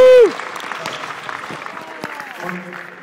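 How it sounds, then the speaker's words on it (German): Audience applause at a rockers' 40th anniversary event in the St. Pauli stadium, starting right after a brief tone and continuing as a steady clatter of many hands for a few seconds. "Herzlichen Applaus."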